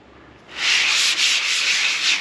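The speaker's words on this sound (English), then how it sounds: "Okay, so now it's time to do the glorious sanding?" Steady, rough hand sanding of varnished wood on a sailboat, starting after a brief pause, a continuous loud scratchy rasp with slight rhythmic strokes, very close.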